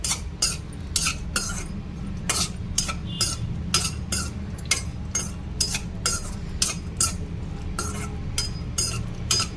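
Almonds and cashews fry over a low flame while a spoon stirs them, making regular metallic clinks against the pan over a soft, continuous sizzle.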